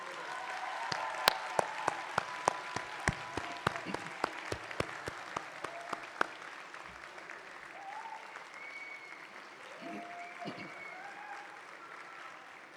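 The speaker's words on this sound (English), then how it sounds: "get up, turn around, and applaud the people who helped you get to this day" Commencement graduates stand and applaud their professors, a broad crowd of clapping with sharp individual claps punctuating the start, gradually thinning into a softer, diffuse patter with faint voices mixed in.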